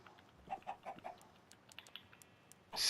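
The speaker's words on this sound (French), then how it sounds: "Les poules." Chickens in the video game Minecraft give a few soft, quick clucks at a low level, followed by a brief louder burst near the end.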